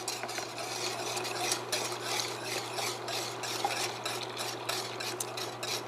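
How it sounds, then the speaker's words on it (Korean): Flour paste is stirred into boiling water for young radish water kimchi, a soft continuous swirling and scraping in a pot over a low steady hum, with no talking. "이게 살살 부어가면서 저어주세요"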